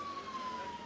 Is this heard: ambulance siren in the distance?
yes